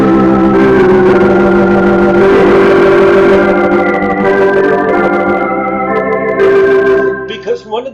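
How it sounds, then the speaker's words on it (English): Sustained organ-like chords from an electronic instrument play close and loud, their held tones shifting between harmonies before thinning out near the end. "So it's sometimes good to be able to demonstrate these instruments as an organ."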